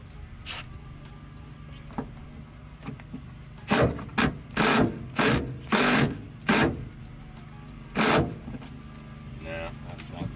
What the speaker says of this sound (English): Let's see if the 3/8 impact can do anything here.